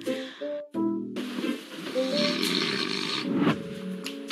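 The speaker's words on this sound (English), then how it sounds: "That's actually him snoring." A man snores loudly nearby, a rough rattling drone likened to a mowing machine, running continuously with a short break and uneven swells in intensity.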